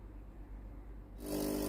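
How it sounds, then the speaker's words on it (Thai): Inside a Tefal GV8950M0 steam generator iron with a no-steam fault, a low quiet hum gives way abruptly to a louder, brighter buzzing as the water valve resets. "ตัวนี้เสียงวาล์วน้ำรีเซ็ตนะครับ"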